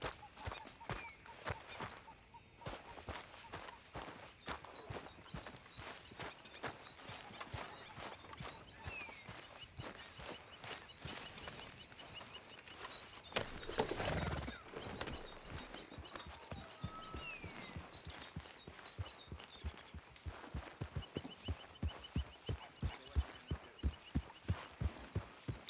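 Horse hooves clip-clop steadily on the ground in Red Dead Redemption 2, a continuous rhythmic walking beat that grows sharper and more distinct toward the end, with a brief louder rumble midway.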